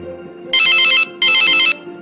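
A phone ringtone plays two loud, bright electronic bursts of about half a second each, separated by a short pause, over faint background hum.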